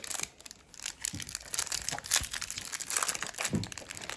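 A cello pack of MLB Topps Bowman Platinum baseball cards being torn open, close crinkling and crackling wrapper with uneven bursts of tearing over a few seconds.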